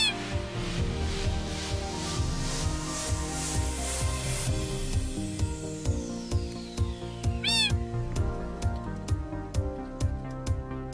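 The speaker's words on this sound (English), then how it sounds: "We got a nice little kitty there." A cat meowing in the video game Minecraft, repeated short meows and purring sounds over steady game music and ambient tones, with a rising whistle-like effect midway.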